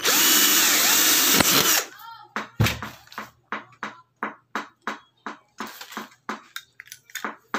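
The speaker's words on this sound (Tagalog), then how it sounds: "And then we drill." A power drill whines steadily for a couple of seconds while installing a fixed glass window frame with molding-clip spacers, then a string of short, evenly spaced clicks and taps follows, close and fairly loud.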